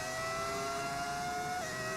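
A Formula One car engine in a racing video game revs at high pitch with a brief rising whine, loud and close over a short burst, with no talking.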